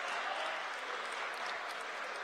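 St. Peter's Prep home crowd cheering and applauding in a gym during a tied high school basketball game against Gill St. Bernards, a loud continuous roar of claps and shouts filling the whole moment.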